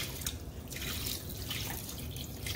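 Water is poured into a pot of beef bone curry, making a faint, continuous splashing trickle.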